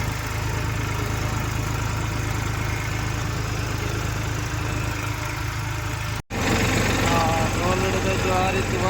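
A tractor drones steadily while sowing groundnut in a monsoon field, its engine a loud, continuous low rumble that cuts out for an instant near the six-second mark before resuming just as strong.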